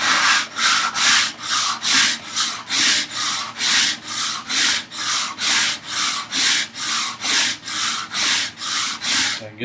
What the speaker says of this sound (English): Just give it a decent little sanding.